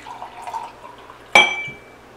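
Bottled water poured into a glass: a soft trickle, then a sudden bright splash and clink that rings briefly before fading.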